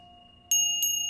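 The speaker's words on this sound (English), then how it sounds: "Ringing the Ganesh bell." A small Ganesh bell rings twice in quick succession, bright and sustained tones over a faint steady hum.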